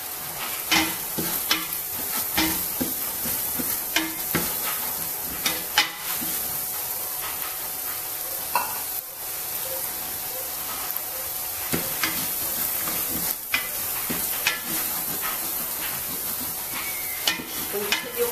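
Chopped onions sizzle in hot oil in a pan while Goto toppings are prepared, a steady close hiss broken by frequent sharp stirring clicks and scrapes, with no voices.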